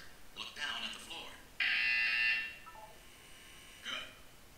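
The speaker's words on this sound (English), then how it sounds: "When you hear the buzzer, look down at the floor." A harsh electronic buzzer in the Portal 2 video game sounds once for under a second during a wellness exercise, clear and sustained, framed by a synthetic voice speaking softly before and after.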